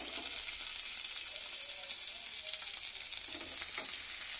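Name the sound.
garlic frying in a pan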